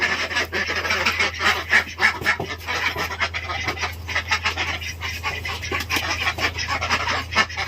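Many ducks kept shut in their pen quack and honk together nearby, a busy, overlapping chorus with a constant low hum underneath.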